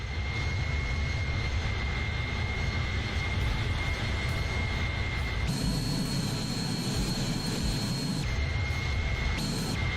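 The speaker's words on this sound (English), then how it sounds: "the sound of the engines doesn't get quieter when you go further away" Airbus A310 jet engines in Microsoft Flight Simulator hum at a steady, loud level with a constant whine that shifts pitch partway through, with no change in loudness.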